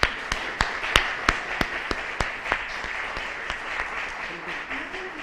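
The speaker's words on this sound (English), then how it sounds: "big round of applause for Rachel George" Sparse, fairly distant audience applause at an authors' festival event welcomes the moderator, with single claps ringing out at an uneven rhythm under a faint hum of the room.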